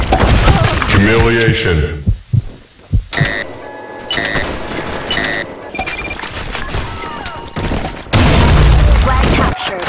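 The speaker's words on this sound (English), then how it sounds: "Fire in the hole! Grenade!" Grenade explosions and a chaotic mix of game effects in an online shooter match, with loud booms, chimes and bursts layered together and a voice speaking briefly among them.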